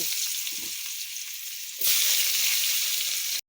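Potatoes frying in hot oil after dried chilli and cumin seeds tempered it, a close, steady sizzle that swells abruptly louder partway through, then cuts off.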